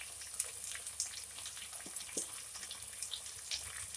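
Chicken coated in spice masala sautés quietly in a pan for a bhaja masala chicken dish. A faint, steady sizzle runs throughout with occasional soft clicks and stirring scrapes. No one speaks.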